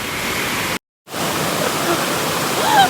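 Nang Rong waterfall in Thailand roars as a dense, steady rush of falling water, loud and close, broken once by a brief dropout.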